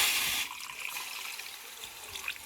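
Tap water splashes and trickles into a bowl in a home kitchen, a soft, steady pour that eases off after the first half-second and continues faintly.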